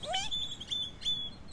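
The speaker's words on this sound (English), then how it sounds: "A baby great-tailed grackle. It's the one that's going" A baby great-tailed grackle gives a few thin, high squeaky calls, faint and slightly distant over a soft outdoor background hiss.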